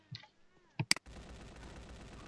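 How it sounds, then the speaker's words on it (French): Submachine gun fire in the zombie video game Land of the Dead: a couple of sharp shots, then a sustained rapid automatic burst that runs on steadily to the end. "oh, mitraillette"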